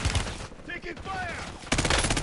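Rapid gunfire in a Warzone battle royale match, a dense burst of shots followed by a louder, sustained volley near the end, with game voices briefly calling out between the bursts.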